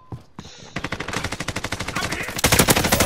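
Rapid automatic gunfire in the Warzone video game, a steady run of close, loud shots that thickens and grows heavier toward the end, with no talk over it.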